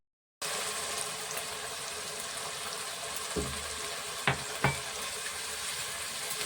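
Chicken patiala is stirred in a pan after soaked kasuri methi is added, giving a soft, steady sizzle with a few brief scraping knocks of the spoon against the pan, fairly quiet and with no talking.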